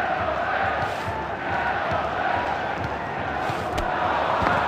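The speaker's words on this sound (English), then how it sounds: "the crowd are well behind their team now they've got their goal" A stadium crowd in the Dream League Soccer 2018 football game keeps up a dense, continuous roar of cheering that stays loud and even throughout, with no talking.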